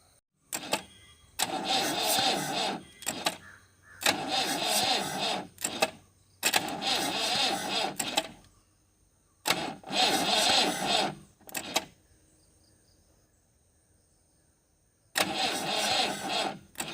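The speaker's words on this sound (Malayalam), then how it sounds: "അങ്ങനെ കുറേ നേരം പണിയെടുത്തെങ്കിലും വണ്ടി സ്റ്റാർട്ട് ചെയ്യാൻ സാധിച്ചില്ല." A car engine left unused for fifteen years is cranked again and again without firing, loud, close bursts of churning starter noise lasting a second or two each, separated by quiet pauses.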